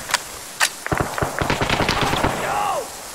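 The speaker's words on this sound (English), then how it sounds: "Let's put a little bit of suppressive fire downrange." Suppressive gunfire in the video game Arma 3: a couple of separate loud shots, then a steady rapid string of automatic rounds fired for over a second, followed by a fading whine.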